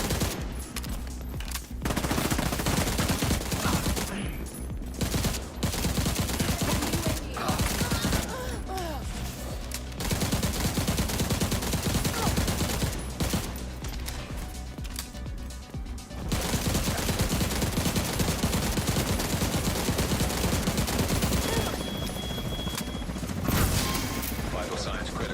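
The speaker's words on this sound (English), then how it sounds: "So just a matter of shooting." Sustained automatic gunfire in the video game The Division 2, long rapid bursts broken by brief pauses, loud and close, with game voices and effects mixed in among the shooting.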